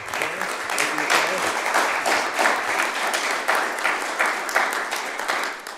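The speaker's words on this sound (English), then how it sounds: "Nice applause" Applause for people being recognized at a mayor's news conference, steady close clapping from a small crowd lasting several seconds with uneven rhythmic peaks.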